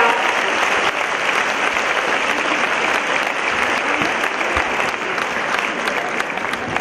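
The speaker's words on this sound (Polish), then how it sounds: "Wielkie brawa!" A large audience at a session of the IX Women's Congress in Poznań applauds volunteers, dense continuous clapping that stays loud and even throughout.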